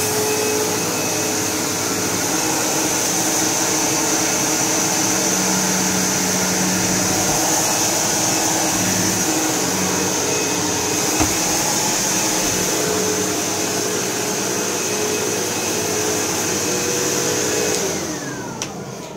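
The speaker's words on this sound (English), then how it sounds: "That vacuum kind of growls a little bit when you shut it off, but it's not very loud." An upright vacuum cleaner, either a Miele Dynamic U1 Twist or a Sebo Automatic X4, runs with a steady loud whine and roar for nearly twenty seconds, then starts to wind down at the very end.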